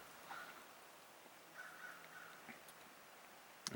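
A crow caws faintly in the distance on a mountain hike up Roan High Knob, a few short calls spread across the quiet, with a light patter of background noise.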